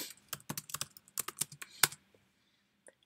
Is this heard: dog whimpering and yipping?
no